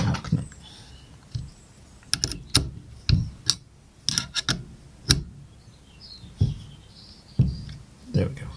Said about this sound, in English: Lock the lock nut.